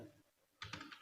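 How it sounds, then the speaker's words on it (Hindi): Computer keyboard typing while entering text in a Word document: a short run of close, crisp key clicks following a quiet moment, with no talking. "पहले यहाँ पे कुछ टाइप कर लेते हैं"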